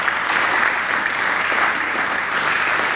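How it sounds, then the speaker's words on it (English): A people's assembly audience in London claps steadily in a dense, even burst of applause lasting a few seconds, with no voices over it. "We applaud."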